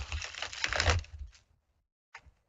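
A deck of cards is shuffled in a quick riffle burst lasting about a second, fading off, then one short flick of cards follows after a pause, close and soft during a live psychic reading.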